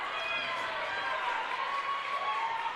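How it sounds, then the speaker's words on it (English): Waynesburg Central fans let out a mocking cheer at a girls' high school basketball game in Dormont, a steady, dense crowd roar that holds throughout with a voice talking over it. "a mocking cheer from the Waynesburg Central faithful that have made the trip here to Dormont tonight"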